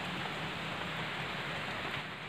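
Steady rain pours down, a dense even hiss of drops on surfaces with no voices, constant and fairly close throughout.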